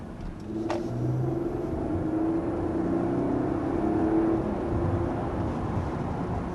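A 2022 Mercedes GLS 450 engine is heard from inside the cabin as a steady, smooth low rumble and whir, with faint road hum under it and no talk.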